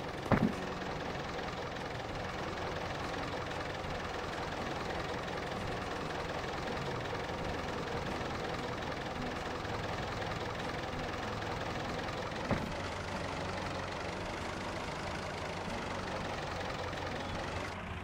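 A tractor engine idles in Farming Simulator 22, a low, steady rumbling drone that holds evenly for the whole stretch, with a couple of brief clicks near the start and again midway.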